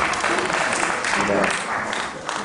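An audience at a candidates' night for sheriff claps steadily, a dense, continuous patter of hands that thins slightly toward the end.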